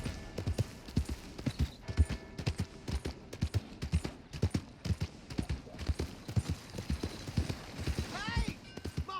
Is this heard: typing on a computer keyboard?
no